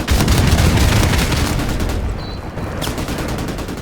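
Cluster bomb grenades bursting in Call of Duty: Modern Warfare Remastered, a dense roaring rumble of overlapping explosions that fades over a few seconds, loud and close.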